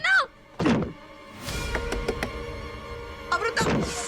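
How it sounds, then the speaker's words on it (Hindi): Heavy banging on a house door to break it down in a Hindi TV serial, a run of loud, uneven thuds and knocks landing in quick bursts, with brief voices and other sounds before and after. "दरवाजा तोड़ दो।"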